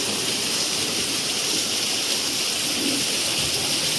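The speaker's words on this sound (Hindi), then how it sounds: "सरासर बारिश पड़ रही है।" Steady, dense rain pours down without a break, a loud continuous hiss of water with no voices over it.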